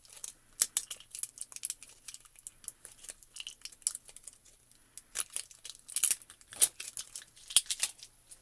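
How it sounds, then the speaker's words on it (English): A small mixing ball rattles inside a shaken bottle of motorcycle stamping ink, giving scattered light clicks and crinkly plastic rustles in irregular bursts, close and faint, with no talking. "And then you can hear the little ball in there, and I just kind of like swirl and shake, swirl and shake."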